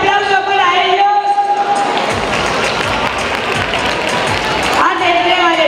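Loud, sustained applause and cheering from a crowd for volunteer firefighters at a Piñata Sunday town festival, steady clapping and shouting close by, with a voice on a loudspeaker before and after it.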